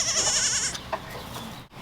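A young goat with a bent leg bleats in a short, wavering, close cry, followed by quieter rustling.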